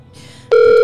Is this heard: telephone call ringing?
yes